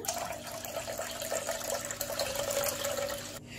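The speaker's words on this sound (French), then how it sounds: "Je vais ajouter 200 ml d'eau tiède" Warm water pours steadily into the bowl of a kneading machine, a continuous close trickling splash that runs evenly for about three seconds, then cuts off abruptly.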